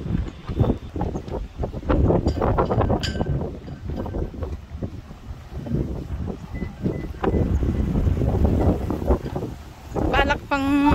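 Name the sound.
strong wind at a national park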